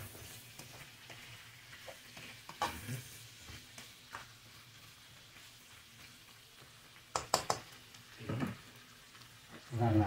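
Shrimps and squids cooking in coconut milk get stirred in a pan, with a few sharp scraping stirs and bursts of sizzling over a soft, steady simmer, heard close with no talking.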